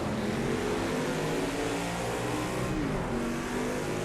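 A NASCAR stock car in the racing game Project CARS 2, its engine droning and climbing through gears in a steady, continuous roar over four seconds, alone without talk.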